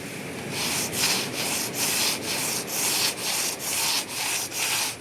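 Rhythmic rubbing of wet sandpaper over a fiberglass boat hull, steady back-and-forth strokes about twice per second, close and continuous with no talking.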